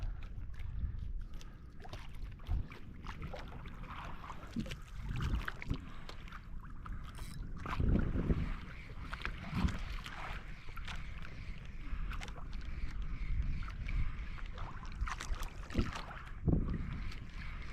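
Quiet paddle strokes and splashing water around a small fishing boat, with wind buffeting the microphone throughout.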